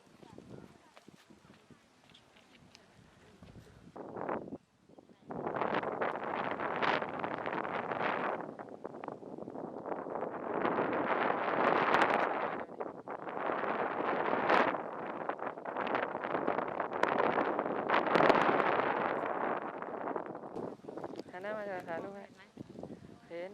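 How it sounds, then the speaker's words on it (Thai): Strong, steady wind buffets the microphone at the Pha Mo E Daeng clifftop in Thailand at sunrise, a continuous roaring rush that swells and eases for most of the clip. "วันนี้ลมนะ"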